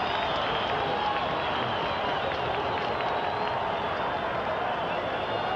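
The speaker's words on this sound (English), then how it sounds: "Listen to the crowd." A huge stadium crowd roars continuously at a 1982 NFL game between the Seattle Seahawks and Denver Broncos, a dense, sustained wall of cheering that holds steady the whole time as a play gains yardage.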